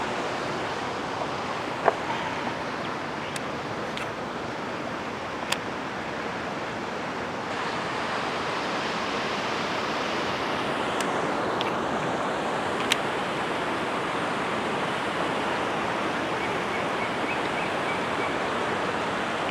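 Water rushing strongly through a sluice gate at a fishing spot in Ang Thong, Thailand, a constant dense roar with a few faint clicks and knocks, no voices.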